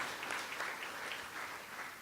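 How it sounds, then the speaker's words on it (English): Steady audience applause fills a hall at a campus event about ending violence on school and college campuses, a dense, even wash of many hands clapping, fairly distant and moderately quiet, with no voices over it. "Please give them a round of applause for the work that they're doing"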